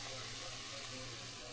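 Chicken juices pour into a hot fajita pan, giving a faint, steady watery splash and hiss throughout the short moment.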